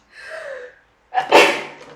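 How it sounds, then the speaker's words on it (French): A single loud, close sneeze, preceded by a sharp inhaled gasp and a short silence, then a forceful burst that tails off. "J'ai envie d'éternuer."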